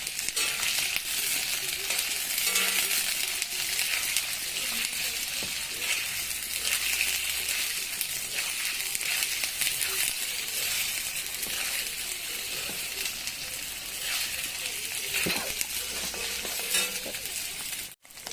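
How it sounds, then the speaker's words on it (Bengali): Paneer frying lightly in oil gives a steady, close sizzle for about eighteen seconds, with occasional faint clinks of stirring and no talk. "পনিরটা হালকা করে ভেজে নেব। পনিরটা হালকা ভেজে হয়ে গেলে উঠায় নেব।"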